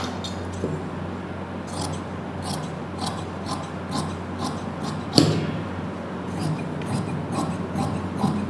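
Scissors cut through marked blouse fabric, making a repeated, close crisp snipping and rasping at a steady rhythm, with someone talking softly over it.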